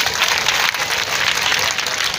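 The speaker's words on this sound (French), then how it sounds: "applaudissez pour vous-même." A crowd at a stage event applauds itself, dense steady clapping filling the whole stretch at close range with no voices over it.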